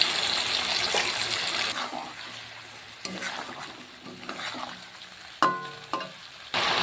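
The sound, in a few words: chicken meat frying in pan with a little water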